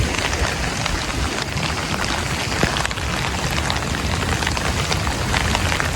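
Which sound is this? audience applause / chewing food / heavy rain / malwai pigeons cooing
heavy rain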